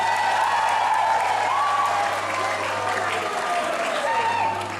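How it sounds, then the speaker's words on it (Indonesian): Applause from an audience at a church choir competition in Makassar, a steady wash of clapping throughout, slightly fading toward the end, with a faint tonal hum underneath. "Tepuk tangan dulu dong."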